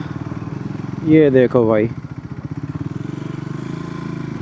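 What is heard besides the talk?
Triumph Scrambler 400X motorcycle engine started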